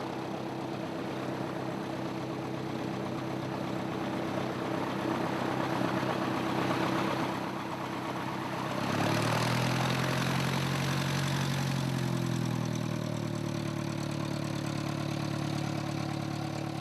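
A small training aircraft at a Bethel, Alaska flight school idles after touchdown, its engine a steady close drone with a shift in pitch partway through and no talking.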